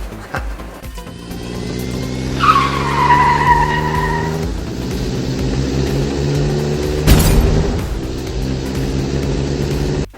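Loud engine roar with a sharp screeching tire skid, followed by a heavy crash-like thump; a dramatic car stunt sound-effect sequence for a toy stop-motion scene, with no talking.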